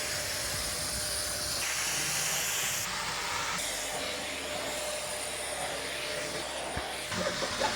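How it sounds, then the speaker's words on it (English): A vacuum cleaner runs continuously during room renovation, a loud steady hiss and whine that shifts in pitch as the nozzle moves, with no talk over it. "This vacuum is amazing."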